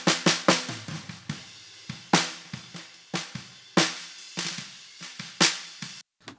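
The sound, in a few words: bottom snare drum microphone track before processing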